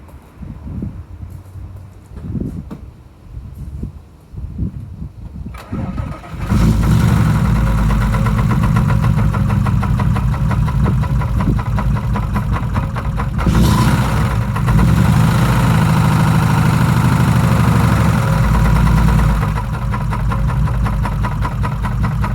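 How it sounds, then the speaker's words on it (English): A 1988 Mazda 929 engine cranks over briefly with a few uneven thumps, then catches and settles into a loud, rough, buzzing idle with a rattly knock that holds steady, close to the car. "I'll start it up real quick for you so everybody can hear the blender that is my car."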